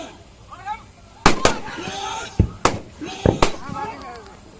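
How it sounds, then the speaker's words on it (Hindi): Several sharp blank gunshot bangs, some in quick pairs, crack out over background voices and shouts, loud and close, on a live film set during a fight scene shoot. "रवि किशन दौड़ के इधर उधर गोली चला रहे हैं।"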